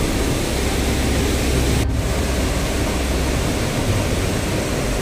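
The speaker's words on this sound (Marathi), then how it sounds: "पाण्याचा स्पीड बघा, एकदम फुल स्पीडनं पाणी वाहत आहे" Water rushes at full speed over a dam spillway on the Godavari river, producing a loud, continuous broadband roar that stays constant from start to finish, with no talking.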